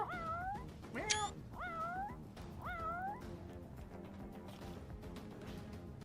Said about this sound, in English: Cat! Meow! Meow! Meow! Meow! Meow!